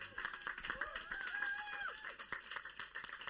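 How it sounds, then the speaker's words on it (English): A small conference audience gives a final round of applause, faint scattered clapping with a few tonal squeaks and some voices mixed in. "one last round of applause"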